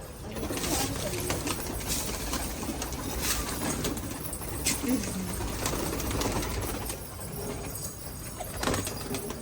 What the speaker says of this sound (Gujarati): કબૂતર જો